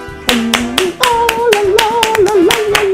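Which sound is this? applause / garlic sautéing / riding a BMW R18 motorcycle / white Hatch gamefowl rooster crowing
applause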